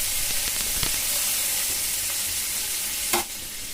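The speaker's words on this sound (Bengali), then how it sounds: "একটু লাল লাল করে ভাজা হয়ে গেলে তার মধ্যে আমি বেগুনটা ছেড়ে দেবো" Eggplant frying in oil with neem leaves, turmeric and salt makes a close, continuous sizzling hiss, with a few soft stirring knocks and one sharper clack near the end, with no speech.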